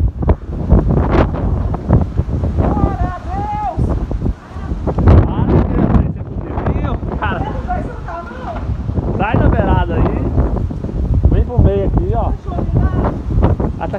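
Very strong wind in Governador Valadares, Brazil, roars and buffets the microphone continuously, loud and turbulent throughout, while several people talk and exclaim over it.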